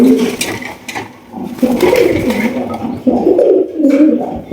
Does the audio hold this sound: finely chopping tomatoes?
no